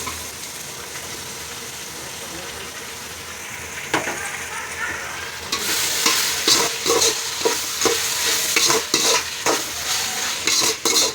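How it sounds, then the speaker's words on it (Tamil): Tomato, coriander, mint and green chilli being stirred in a pan for a vegetable biryani gravy, a soft steady sizzle that turns into loud repeated scraping strokes of a spoon against the pan, close up with no talking. "தக்காளி, கொத்தமல்லி, புதினா, பச்சை மிளகா கலந்துக்கிறேன்"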